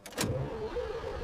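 Heavy black Opel Admiral command car from the WW2 era starting up, a brief burst of cranking that settles at once into a steady, close, rumbling idle, with no voices.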